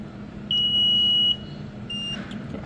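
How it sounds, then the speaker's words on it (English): A hydrogen fuel cell order picker gives a steady electronic beep after being plugged in, one clear tone lasting under a second over a low equipment hum, then a fainter second tone follows. "if everything's working, you should hear a beep over top of you"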